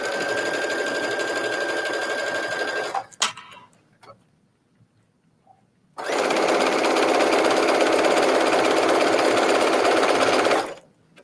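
A domestic sewing machine stitches stretched, gathered elastic onto a T-shirt, running in a steady rapid whir for a few seconds, pausing briefly with small clicks, then resuming for a longer continuous run, close and loud.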